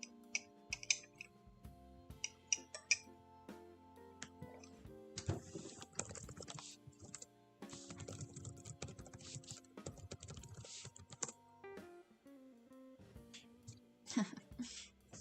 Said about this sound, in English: I didn't realize my typing was so loud